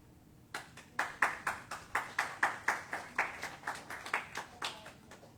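A small audience claps unevenly, a couple dozen quick hand claps at a moderate pace, fairly light and thin rather than a full roaring ovation.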